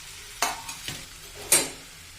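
Horsegram sabzi with coconut cooking in a pan, a low steady sizzle broken by three or four short scraping stirs of a spoon against the pan, close by and alone.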